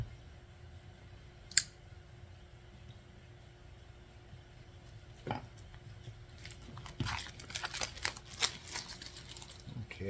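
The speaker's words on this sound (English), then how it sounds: "as you can see, it's still in the cellophane. So let's unwrap it and get into it." Cellophane being peeled off a tarot card box, starting quietly with an isolated sharp crackle, then building into dense irregular crinkling and tearing close by in the second half.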